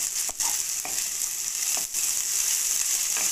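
Finely chopped capsicum sautéing with onions in a pan, a dense continuous sizzle broken by a few brief scraping stirs, close and fairly loud with no voices.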